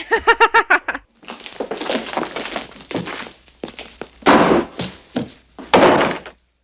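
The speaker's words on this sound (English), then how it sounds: "Everybody's just frantically closing doors." Several doors slam shut in quick succession during a scene from the 1985 film Clue, loud heavy thunks at the start, followed by dialogue with further knocks and thuds mixed under the voices.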